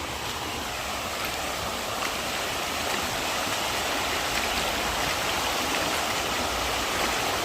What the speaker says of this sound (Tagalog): Lakas ng tubig kasi.